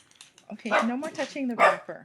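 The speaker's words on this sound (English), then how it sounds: "Oh, sorry about the dog barking." A dog barks and yips in short bursts close by, mixed in with someone talking over it indoors.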